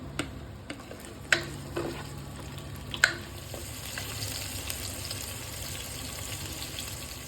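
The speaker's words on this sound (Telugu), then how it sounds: "ఫ్రై చేస్తూ ఉండాలి మనం" Masala sizzling steadily in hot oil for fish curry, a continuous frying hiss with a few sharp pops and clinks of a spoon stirring the pan.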